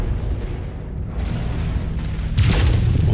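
Deep booming blasts from a turret firing on a mech in MechWarrior 5 roll in as a dense, heavy rumble, with a louder, sharper impact hitting near the end.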